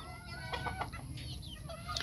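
Chickens kept alongside goats cluck in a farmyard, several short, close clucks coming in irregular bursts over a steady low background rumble.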